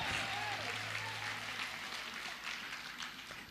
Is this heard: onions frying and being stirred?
no